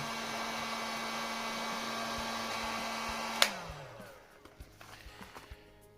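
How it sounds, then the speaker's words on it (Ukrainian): A repaired TITAN industrial heat gun blows at minimum temperature with a steady, loud whirring rush, then switches off with a click and winds down, leaving faint clicks and taps. "Фен працює, все чудово."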